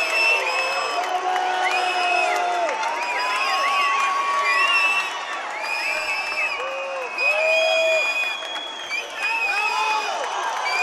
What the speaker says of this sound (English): We couldn't hear the end of the round over the raucous crowd here in Tbilisi, Georgia